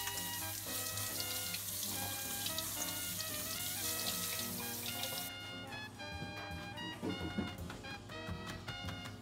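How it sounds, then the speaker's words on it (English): Food being rinsed under a running kitchen tap while cooking pasta alla Norma, a steady hiss of flowing water mixed with clinks and tonal background music, the water noise cutting back partway through. "so I'm going to rinse it off now"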